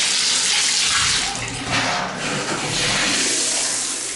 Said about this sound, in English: you can see you have terrific shower pressure from a shower wand